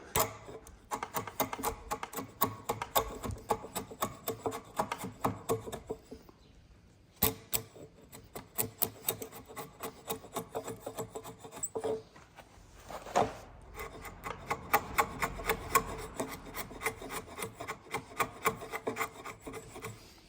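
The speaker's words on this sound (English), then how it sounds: "And just use the slick, because why not?" A large slick chisel pares an oak post tenon in long rasping strokes, bursts of scraping and rubbing repeating rhythmically, close and fairly loud, with brief pauses between passes.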